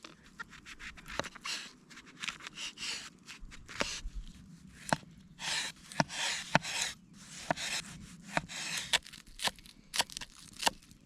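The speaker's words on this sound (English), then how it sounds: "so we can cut the veggies." Vegetables are cut by a campfire. Sharp, irregular knife taps against a board mix with soft scraping and rubbing, close by and without talk.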